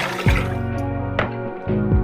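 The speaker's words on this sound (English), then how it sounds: "There, that's enough wash water for me to work with." Water splashes and sloshes in a sink of wash water while dishes are washed by hand, with a few louder swishes and pours standing out against a steady close-up watery wash.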